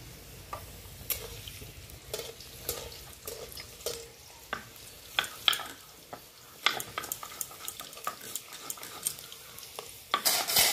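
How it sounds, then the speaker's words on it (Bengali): Potatoes frying in oil give a soft, steady sizzle close by, broken by frequent sharp clinks and scrapes of a utensil stirring against the pan. "আলুগুলো ভাজা হয়ে গেছে, আমি এখন নামিয়ে নিচ্ছি।"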